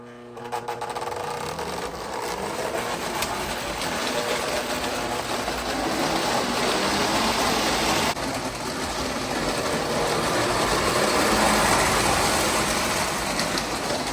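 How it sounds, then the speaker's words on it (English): A Lionel O gauge Union Pacific Alco model locomotive pulls post-war Lionel railcars, its motor whirring steadily with a constant buzzing hum and rattling wheels that grow slightly louder as it runs close by. "The next locomotive is Lionel's Union Pacific Alco. It also is appropriately pulling post-war Lionel railcars."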